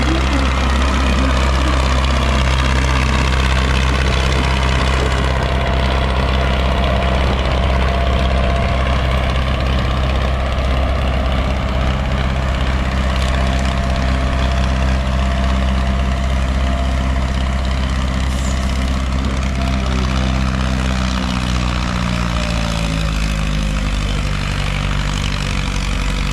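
Tractor pulling engine roaring steadily, a loud continuous droning rumble with a strong low hum that holds throughout, some pitch shifts near the end, and no talking.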